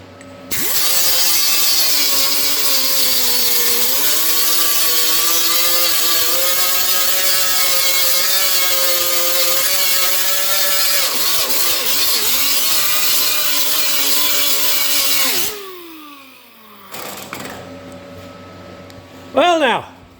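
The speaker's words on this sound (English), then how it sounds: "I'll weld that up and I'll grind and finish that off again." A steady, loud grinder whines against a metal panel for about fifteen seconds with slight pitch dips, then cuts off and spins down, followed by brief mechanical clatter.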